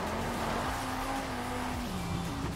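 Audi RS3 sedan with a tuned five-cylinder engine sliding sideways through Mexico in Forza Horizon 5, a steady engine drone with faint tyre noise, held fairly close and constant.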